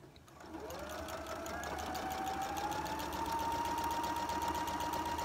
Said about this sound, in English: So we're just sewing straight down this seam.